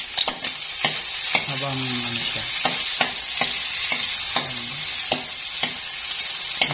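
Garlic sautéing in rendered chicken fat for tinola sizzles steadily while a spoon stirs and scrapes the pan in repeated clicks, with someone speaking briefly over the cooking.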